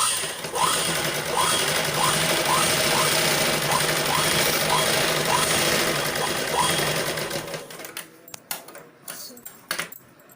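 A sewing machine stitches cloth with a rhythmic, close whirring and regular needle ticks for several seconds, then slows and stops, leaving a few scattered clicks and handling noises.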